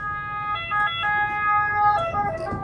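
An ambulance siren wails past on an Italian street, its two-tone pitch sliding as it goes by, loud and steady with no voices over it.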